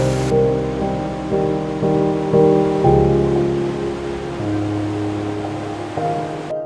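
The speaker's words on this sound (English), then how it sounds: "Only the sound of the waves remains." Ocean waves wash steadily onto a beach at Patong, Phuket, a loud continuous surf roar with slow swells and no voices.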